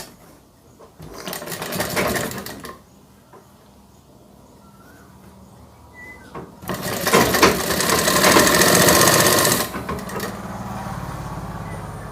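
A sewing machine stitches a child's fabric face mask in two loud runs, a short burst early and a longer steady whir later, with quiet handling between.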